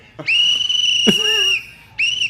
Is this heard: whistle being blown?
yes